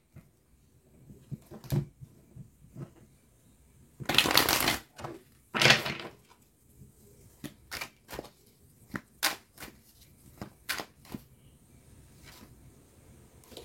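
Tarot cards are shuffled and handled close by in bursts of crisp riffling and sharp taps, with two louder ruffles early on and scattered clicks after, all without talk.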